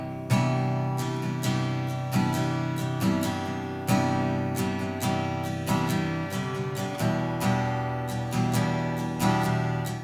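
Acoustic guitar picked up by a ribbon microphone, strummed chords repeating in an even rhythm with a warm full body and softer top end, close and sustained, no voices over the playing.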